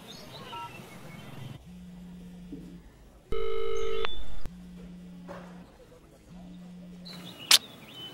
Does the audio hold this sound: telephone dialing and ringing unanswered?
yes